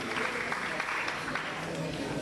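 An audience applauds a contestant at a French-language school quiz final, a steady wash of clapping with a few sharper claps.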